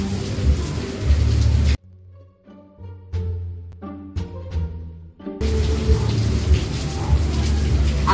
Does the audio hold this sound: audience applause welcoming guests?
no